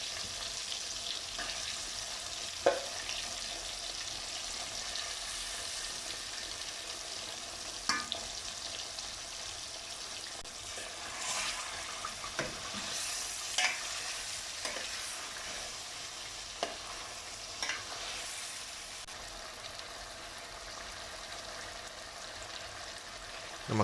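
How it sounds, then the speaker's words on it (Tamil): Tandoori chicken frying in a pan on low heat gives a soft steady sizzle and crackle for a long stretch, with occasional clicks and scrapes as pieces are turned, close but fairly quiet, no speech. "ஸ்லிம்மில் வச்சே பண்ணுங்கள் இதை, அப்போ தான் உங்களுக்கு எல்லா பக்கம் பொரிஞ்சு எடுக்கிறதுக்கு நல்லாயிருக்கும்."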